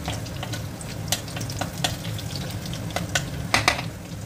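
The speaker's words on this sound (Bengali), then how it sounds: "একটা শুকনো লঙ্কা আমি এখানে দিয়ে দিলাম, দিয়ে একটু তেলের মধ্যে এর সঙ্গে নেড়ে নিলাম।" Dried red chilli sizzling and frying in hot oil in a pan, with steady crackle and scattered sharp pops as it is stirred, close and continuous throughout.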